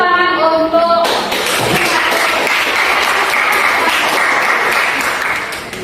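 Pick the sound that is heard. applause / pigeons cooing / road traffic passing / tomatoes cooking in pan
applause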